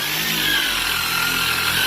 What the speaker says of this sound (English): it's going to spin as fast as he throttles the machine